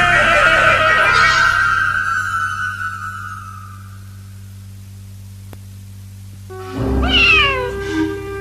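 A cat meows with a long drawn-out cry that fades over about four seconds, followed after a quiet hum-filled pause by another short, bright meow near the end.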